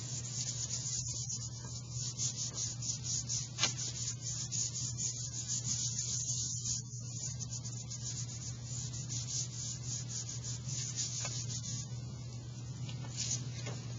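Paper is rubbed by hand over an inked mandala printing plate in steady, continuous scratchy strokes, close and fairly quiet, with a low constant hum behind it.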